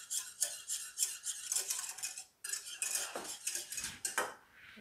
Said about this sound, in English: Make sure all your butter is whisked in.